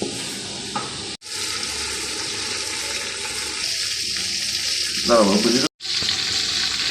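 Chicken pieces fry in hot oil for a bachelor-style chicken biryani, giving a loud, steady sizzle close by. A brief, sharper crackle follows a stir, and two short silent gaps break the sound.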